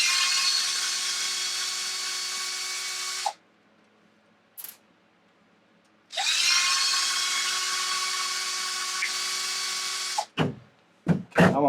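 A power drill runs in two long steady bursts while working on the rear differential of an Arrma Limitless RC car, with a short whir between them and a few quick clicks and taps at the end.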